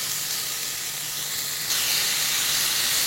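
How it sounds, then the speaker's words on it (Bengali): A little water hits spices frying in a pan for egg katli, raising a steady hiss and sizzle that grows louder and brighter partway through. "এর মধ্যে আমি একটু সামান্য জল অ্যাড করব যাতে মশলাগুলো পুড়ে না যায়।"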